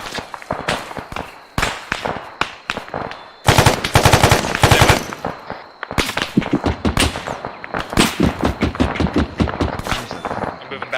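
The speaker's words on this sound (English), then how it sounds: "we're being engaged by an autocannon to our south-southwest" Autocannon and small-arms gunfire in a military video game: loud bursts of rapid shots and single cracks fire in repeated volleys, with a dense sustained burst in the middle and brief voices between.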